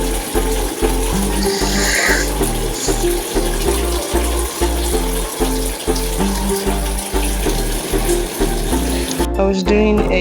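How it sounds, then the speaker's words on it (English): Water from a tap gushes steadily into a bathroom sink or tub while someone washes up, loud and close, with a rhythmic beat of background music running throughout. "I was washing up, brushing my teeth, and trying to take my bath."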